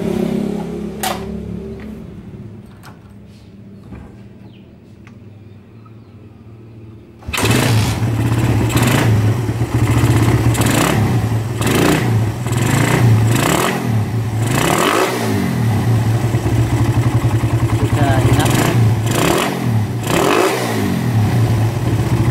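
A Suzuki Satria motorcycle engine is quiet for about seven seconds, then cranks to life and idles loudly up close, with repeated sharp throttle revs rising and falling toward the end.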